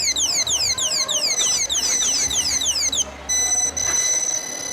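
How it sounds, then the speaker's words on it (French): A loud electronic anti-theft alarm on a display phone shrieks with rapidly repeating falling chirps, continuous and piercing, close by with no voices. "Ça va continuer à sonner tant que l'alarme n'est pas coupée."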